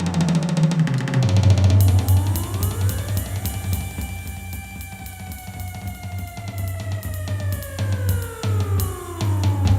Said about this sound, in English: It sounds like a tornado siren.